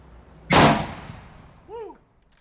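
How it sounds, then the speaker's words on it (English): A single thunderous rifle shot from a Mosin M44 carbine firing 7.62x54R outdoors, a sharp loud blast with a long decaying tail, followed by a brief whooping cry from a person. "The thunderous report of the 54R."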